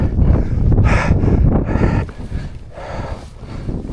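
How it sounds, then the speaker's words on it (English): Strong winter wind on an exposed hillside roars into the microphone as loud, close buffeting gusts, heaviest at first and then easing slightly before surging again. "the wind as well, nearly blew me off"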